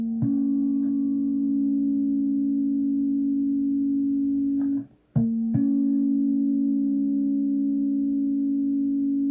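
Sustained harmonic electronic tones from a phone-recorded horror soundtrack demo hold steady, broken by a short dropout and click midway before the drone resumes, alone with no voices.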